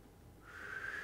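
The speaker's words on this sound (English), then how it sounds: "a lovely waltz with harmonics that sound like whistling" Fiddle harmonics rise into a thin, sustained whistle-like tone, faint and alone, swelling gently as the note settles while playing Whistler's Waltz.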